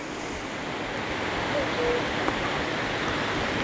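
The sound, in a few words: river water flowing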